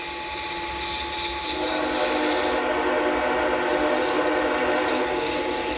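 A Norfolk Southern train passing, heard as a continuous loud rumble with steady tonal whine and rolling mechanical noise, unbroken and close for the whole stretch.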